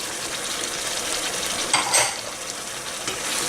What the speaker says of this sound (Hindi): और इसको इसी तरह से भूनते रहें,